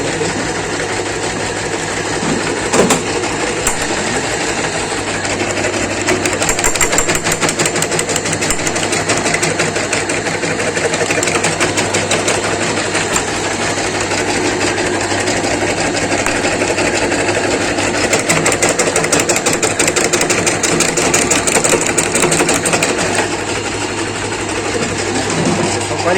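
A betel nut (supari) cutting machine runs steadily, a loud continuous mechanical whirr with a fast rapid chatter that barely changes and carries on without pause for the whole stretch.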